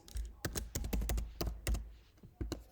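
Code typed on a computer keyboard, a close, quiet run of irregular key clicks and thunks with brief pauses between bursts.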